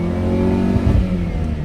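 A Honda car with a SOHC VTEC engine fitted with a D15 or D16 intake manifold revs hard toward its 6,000 RPM limit, giving a close, loud, steady engine drone that swells slightly partway through.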